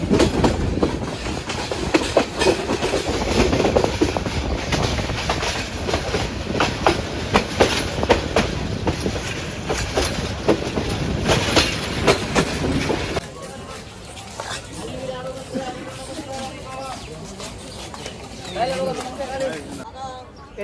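Parabat Express passenger train rolling along the rails toward a station platform, a steady loud rumble with clickety-clack from the wagons that drops to a quieter, rattling interior ambience partway through, with faint voices in the background.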